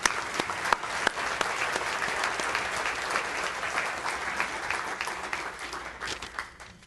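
An audience at a Tri-City Regional Chamber luncheon applauds to welcome new chamber members, sustained warm clapping from a large crowd that slowly fades near the end.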